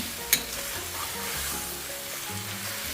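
Sausage meat browns in a frying pan, giving a steady, fairly quiet sizzle throughout, with one sharp utensil scrape or clink near the start.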